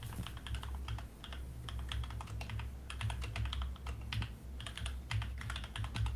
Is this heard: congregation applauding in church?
no